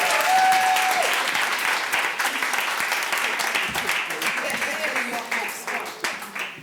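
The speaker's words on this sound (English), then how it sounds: "Give them a round of applause" An awards ceremony crowd, at a Hall of Fame induction for a South African road running legend, breaks into loud sustained applause that starts strong and slowly thins into scattered claps, with voices mixed in underneath.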